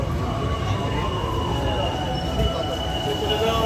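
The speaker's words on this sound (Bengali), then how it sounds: "এই মুহূর্তে আমাদের ট্রেন এসে দাঁড়ালো খাগড়াঘাটে" The Teesta Torsa Express rumbles along with a steady, loud rattle of wheels and carriages and faint high wheel squeals, heard from on board.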